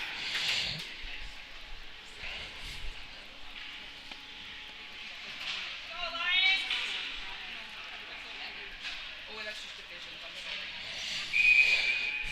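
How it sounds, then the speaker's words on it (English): A referee's whistle gives one short, high blast near the end of an ice hockey game between NALA and Up North Girls, heard over crowd noise and an announcer's play-by-play. "we'll get a whistle"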